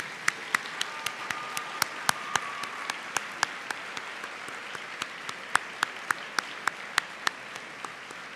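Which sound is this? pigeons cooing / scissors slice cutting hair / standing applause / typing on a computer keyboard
standing applause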